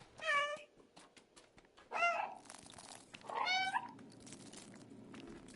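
A cat meows three times in the video game Stray, short bright calls spaced about a second and a half apart, fairly close and clear over a low ambient game hum.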